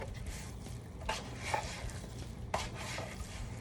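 Seasoned ground beef is mushed and mixed by hand for burger patties, giving soft, faint squishing and smacking sounds with a couple of sharper wet slaps, close up and with no talk.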